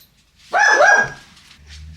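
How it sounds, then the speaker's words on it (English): A dachshund barks loudly and close by in a short burst of yipping barks, followed by a quieter low hum. "That's the thing about living with dachshunds. They are loud. They are noisy. They bark at nothing."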